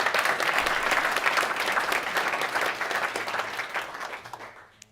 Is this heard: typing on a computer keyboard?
no